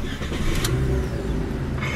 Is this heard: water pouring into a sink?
no